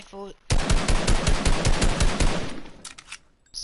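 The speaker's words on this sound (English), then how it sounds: "next is the normal assault rifles" Rapid bursts of assault rifle fire from the video game Fortnite, loud and close, rattling continuously for about two seconds, then a brief pause before a few more quick shots.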